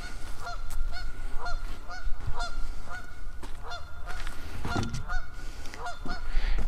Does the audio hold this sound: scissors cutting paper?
no